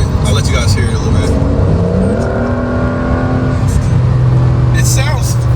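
A Porsche 911 GTS T-Hybrid revs with its exhaust opening up, a loud, steady engine drone climbing in pitch toward higher RPM, with someone speaking over it.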